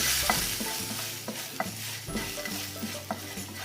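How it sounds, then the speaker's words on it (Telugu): Oil crackles and sizzles as a dry red chilli fries in a pan, a utensil stirring with repeated scraping taps, close up and steady, no one speaking. "అలాగే 1 ఎండుమిర్చి వేసుకొని ఇది కొంచెం బాగా వేగనిద్దాం"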